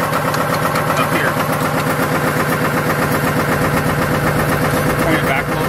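Air compressor runs with a loud, steady mechanical hum that continues unbroken throughout, while a person talks over it.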